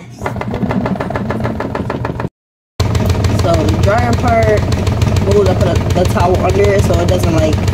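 Small washing machine running its spin cycle, a loud steady motor hum with rattling, broken by a short silent gap, while a person talks over it.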